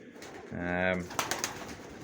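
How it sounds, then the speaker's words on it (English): Pigeons in a loft give a single low, throaty coo lasting about half a second, close and clear, followed by a few light scuffs and knocks. "I have got some 10-year-old pigeons to go this year that have bred some good winning birds"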